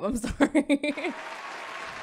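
A round of applause, a steady soft patter of many clapping hands, comes in as a short spoken phrase ends and carries on faintly for about a second.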